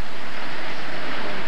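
A waterfall in a park in Spain gives a steady, loud broadband rush of falling water, close and continuous with no pauses and no voices.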